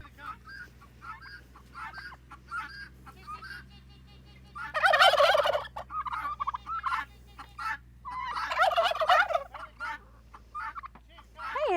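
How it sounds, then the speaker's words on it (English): Farm turkeys gobbling in bursts, two loud rattling gobbles standing out among fainter calls, with soft background noise between. "Gobble, gobble, gobble, gobble, gobble, gobble."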